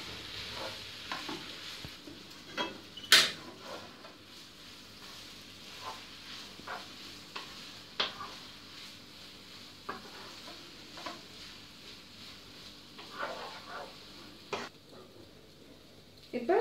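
Capsicum rice is mixed and stir-fried in a pan, with soft sizzling and intermittent scrapes and taps of a spoon, fairly quiet and close, plus a sharper metallic clink near the start.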